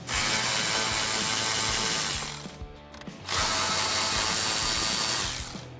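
Power ratchet or drill running loud and steady while 7mm bolts are removed from the radio of a 2015-2020 Ford F150, with a brief pause in the middle before the whirring resumes.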